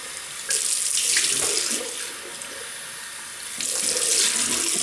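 A bathroom tap runs into a sink while someone rinses after a shave, loud close splashing water that swells, dips briefly, then rises again.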